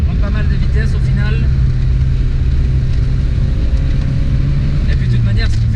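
A Volkswagen Scirocco GLI accelerates, its engine and exhaust giving a loud, steady drone heard from inside the car, with a person talking over it.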